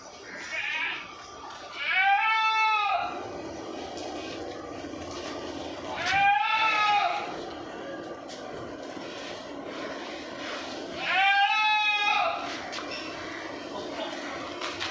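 Andul goats at a goat farm in Mumbra bleat in three clear, wavering calls spaced a few seconds apart, loud and close over a steady background hum.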